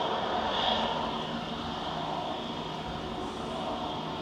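KLM Embraer E190 operated by Eastern Airways arriving at Manchester Airport from Amsterdam, a steady faint distant jet roar and hiss with no voices.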